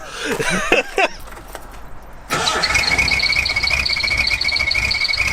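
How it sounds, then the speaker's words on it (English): Whistles fitted to a car's exhaust give a steady high squeal with chirping bird-like tones layered over engine noise, loud and continuous after a brief burst of earlier chirps. "You got the chirping bird and the squeal."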